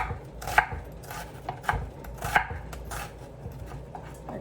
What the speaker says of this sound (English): so I'm just gonna give this a little chop.